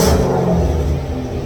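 Car engine running on E85 fuel with a new McLeod RXT clutch and MT82 transmission, a loud close rumbling rev that eases back toward a deep idle.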